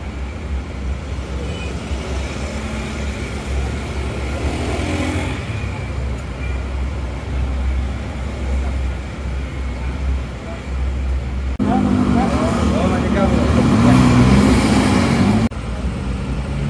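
An Agramas bus arrives amid road traffic, its engine a steady low rumble that grows louder toward the end while people talk nearby.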